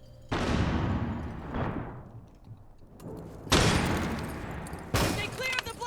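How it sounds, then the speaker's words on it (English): A flashbang grenade goes off in a tactical shooter match, with sharp broadband blasts and gunfire-like bursts that decay into a ringing tail, repeated bangs following through the stretch. "Flashbang."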